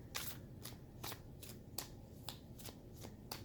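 Tarot cards being shuffled by hand in a series of crisp riffling bursts with short pauses between them, close and clear with no talking.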